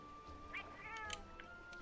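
In the Monster Hunter: World video game, a cat meows in a few soft, drawn-out calls over a faint steady music bed, quiet and somewhat distant, without speech.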